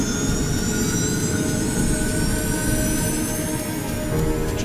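Jet engines of an Air France airliner roar at full thrust during a test flight, a loud, sustained rumble with a rising high whine over nearly five seconds.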